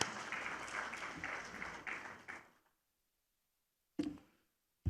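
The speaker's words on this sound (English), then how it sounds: "I would like to have Mr. Safei Safi to stand up to applaud" Applause from an investment summit audience for an agriculture and agro-processing session fills the first two and a half seconds as dense clapping, then fades to silence before a brief burst returns near the end.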